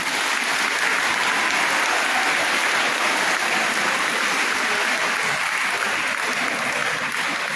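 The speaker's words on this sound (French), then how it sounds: "Grâce à son directeur d'attente, M. Bézo, je voudrais qu'on l'applaudisse, M. Bézo." An audience claps in a church during a school start-of-year Mass, a sustained wash of dense applause from many people, loud and steady throughout.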